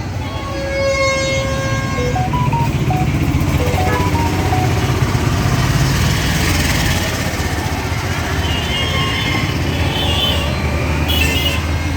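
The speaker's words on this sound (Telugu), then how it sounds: "మా ముందనే వెళ్తున్నారు కదా అలాంటి వెహికల్ కొన్ని వందలు ఉంటాయి" A steady, loud stream of cars and other vehicles pulls away from a temple crowd, with engines roaring and horns tooting in repeated bursts. Several musical horn notes stand out early on.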